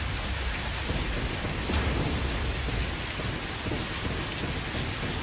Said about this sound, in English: I think that it might be just raining outside, I'm hearing.